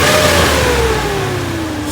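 A Chevy Silverado engine fitted with a K&N air intake revs loudly and continuously, its pitch slowly falling as it comes down from the rev, with no talk over it.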